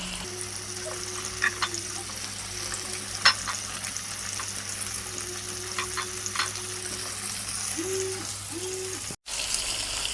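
Potatoes, fish and beans frying in a little oil in a pan, a steady soft sizzle with occasional stirring clinks and scrapes throughout.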